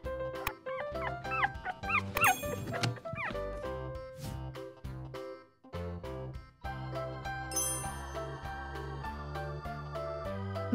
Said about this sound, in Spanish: Bebé perrito.